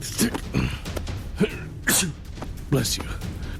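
A man sneezes in a dramatized story scene, with short sharp bursts standing out among spoken voices and other brief noises.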